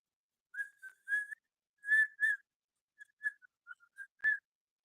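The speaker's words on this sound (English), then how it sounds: "I can kind of whistle" A person whistles a short, wavering tune alone, clear and fairly close, in halting bursts of a few notes with brief pauses between phrases.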